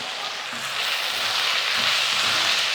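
Tomato, onion, turmeric and curry leaves fry in a pan for a variety rice dish, giving a steady, close broadband sizzle that swells slightly partway through, with no talking.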